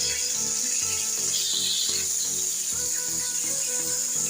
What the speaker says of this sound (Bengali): মাছগুলো একটু উল্টিয়ে পাল্টিয়ে একটু কড়া করে ভেজে নেব।